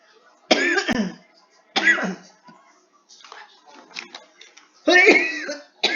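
Three loud coughs from someone close by during an online university tutorial session, spaced out over several seconds, with quieter low speech-like sounds in between.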